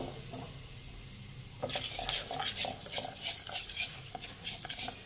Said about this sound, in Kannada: ಮೆಂತ್ಯ ಒಂದು ಸ್ವಲ್ಪ ಹುರಿಬೇಕು.